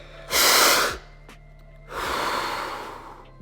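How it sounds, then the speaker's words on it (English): Two deep, forceful breaths during a Wim Hof breathing exercise, a sharp inhale then a longer exhale, close to the mic with a quiet gap between them. "So we're doing breathing this morning."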